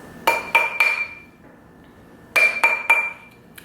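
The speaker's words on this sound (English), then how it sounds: "I'm sliding it down and hammering it all around the ring" Metal ring being hammered on a mandrel, heard as two sets of three sharp, ringing metallic strikes, close and loud, separated by a short pause.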